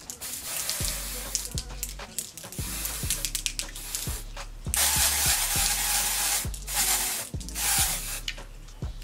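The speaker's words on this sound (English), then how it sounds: "I'm just going to go ahead and spray this on here." Spray bottle misting a curly lace frontal wig in repeated short bursts, each hiss close and fairly loud, with a longer sustained spray near the middle and brief pauses between pumps.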